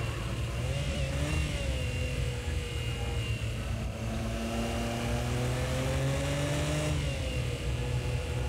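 A Nissan Skyline R32 engine in the racing game Project CARS 2 at Indianapolis drones loud and continuous, its pitch sweeping up through gear changes with rising harmonic whines and no pauses.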